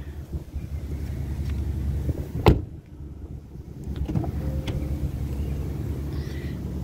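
The power sunroof of a used 2022 Acura MDX Type S opens in the cabin as a soft motor hum, with a sharp click near the middle.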